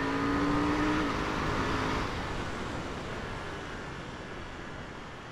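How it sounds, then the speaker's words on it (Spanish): A KTM 890 Duke motorcycle accelerates hard, its rising engine note heard briefly at first under heavy wind rush that dominates the rest, loud and close from the rider's position. "La moto tiene una aceleración brutal"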